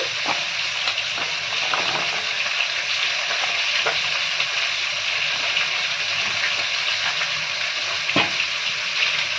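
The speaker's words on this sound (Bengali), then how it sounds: "এবার একটা কড়াইতে ডুমুরগুলো দিয়ে দিচ্ছি।" Figs seasoned with turmeric and salt frying in a wok, a loud, dense crackling sizzle that runs without a break, with scattered sharper pops and no talking.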